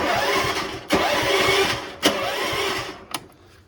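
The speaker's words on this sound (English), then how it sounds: "Engine's turning over now." The engine of a Hammerhead MudHead 208R off-road go-kart is cranked by the starter, a close, loud rhythmic turning-over whir repeated in three bursts with brief clicks between, never catching.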